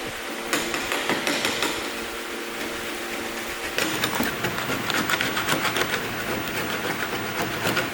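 A spatula scrapes across a work surface to clean it, giving repeated close, gritty strokes in two bursts, with no talking.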